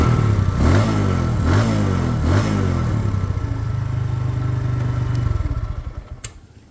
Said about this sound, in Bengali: দেখেন, খুবই সুন্দর টিভিএস অ্যাপাচি আরটিআর 160 সিসি।